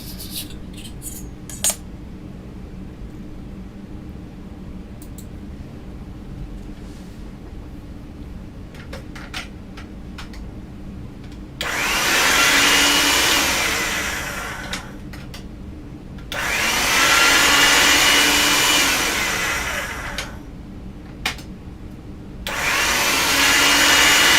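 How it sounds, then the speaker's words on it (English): Polymer-type material for flower earrings is fed through a pasta-style machine on progressively thinner settings, giving three long, loud grinding rolls over a steady background hum, separated by quieter pauses with small clicks. "I'm going to get it through the machine on thinner and thinner setting"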